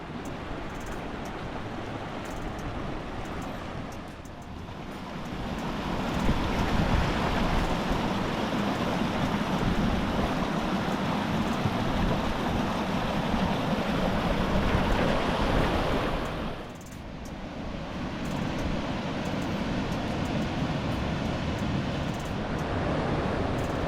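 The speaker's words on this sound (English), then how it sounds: "This is the outlet of Turquoise Lake that flows down into Glacier Lake." The stream at the outlet of Turquoise Lake, running toward falls in the Mission Mountains Wilderness, makes a continuous broadband rush of water with some wind buffeting the microphone.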